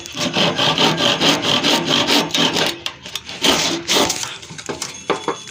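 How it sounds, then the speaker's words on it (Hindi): A hand saw cuts through wood in a family workshop setting, its rasping strokes repeating in a steady, fairly loud back-and-forth rhythm close by, with a brief pause partway through. "तो ये आरी पापा ने अब ले लिया और अब पापा काटने लगे।"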